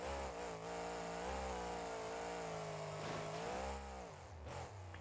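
A monster truck engine in the BeamNG.drive video game, running a Monster Jam setup with an automatic gearbox, revs steadily and loudly. Its pitch dips and climbs again at several gear shifts, with no one speaking.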